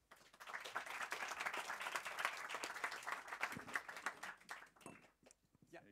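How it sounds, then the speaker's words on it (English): An audience claps continuously for about five seconds at a presentation event, then the applause fades out into quiet room sound. "Please give him a hand of an applause."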